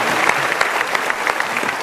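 Studio audience applause at an Indonesian talk show, dense and loud clapping that continues evenly throughout without voices.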